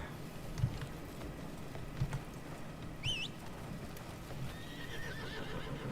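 Horse neighs and hooves clip-clop as a rider travels in a video game, with a whinny rising midway and another trailing near the end over a steady noisy ground of hoofbeats.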